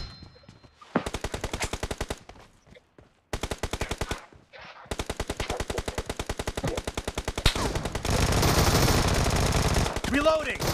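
Gunfire in PUBG Mobile team deathmatch, loud rapid bursts of automatic fire repeating in several long strings with short gaps, ending in a dense continuous roar of shooting and noise.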